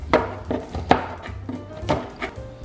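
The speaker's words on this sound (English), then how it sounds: "I have 1 cup of pecans that I'm chopping up" A cup of pecans is chopped with a knife on a cutting board for chocolate chip cookies, giving a steady series of sharp, close knocks about every half second with no talk.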